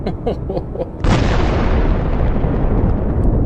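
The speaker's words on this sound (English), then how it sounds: "This leads to a massive explosion." Charges aboard a UR-77 demining vehicle, set off by fire after a drone strike in the Ukraine war, detonate in one massive, sudden explosion that cuts into a low background and then roars on in a long, heavy, sustained rumble.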